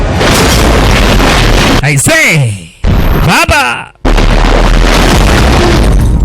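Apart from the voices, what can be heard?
car explosion in a movie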